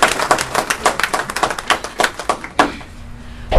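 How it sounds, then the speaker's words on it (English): A small group at a council meeting claps briefly for a woman named Kathy, a quick burst of close, uneven hand claps that stops abruptly. "Let's give Kathy a round of applause."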